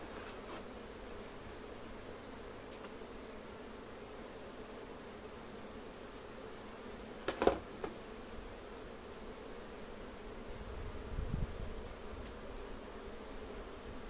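Honeybees hum in a steady, dense drone around a hive during transfer from a nucleus box, close and continuous, with a brief rustle or knock partway through and no talking.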